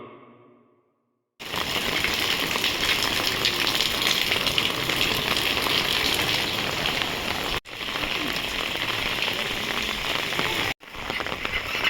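Heavy monsoon rain in Hingoli, Maharashtra, during flooding of the Kayadhu River, pours down in a dense, steady roar close by, broken by two abrupt brief cuts, after a quiet moment at the start.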